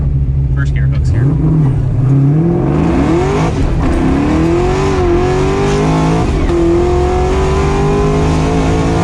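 A supercharged Chevy Nova roars as it accelerates hard in first gear, the engine pitch climbing and then shifting up, loud and close, with supercharger whine and people talking over it.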